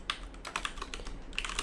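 Typing on a computer keyboard, with quick irregular bursts of crisp key clicks close by and brief pauses between them, no talking.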